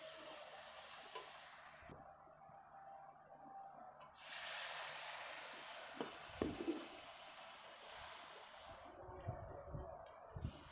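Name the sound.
water added to spice masala sizzling in pan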